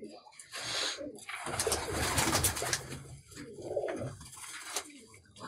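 Teddy pigeons in a loft give soft, repeated cooing calls in short rounded phrases, faint and close, with someone talking quietly in between.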